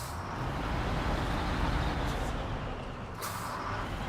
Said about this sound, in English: Oh, the truck is a bit loud.